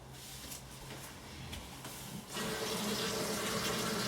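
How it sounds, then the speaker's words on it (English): Tap water runs steadily into a sink while dishes are washed up with soap and a sponge, a soft hiss that swells into a louder, fuller gush partway through; close, with no talking. "you should be able to take a little bit of soap on your sponge and wash it right up"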